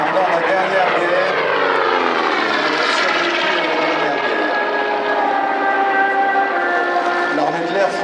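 Trio of historic aircraft flying over an air show at La Ferté-Alais, a loud continuous propeller engine drone with shifting pitch as they pass, under a commentator's voice speaking French.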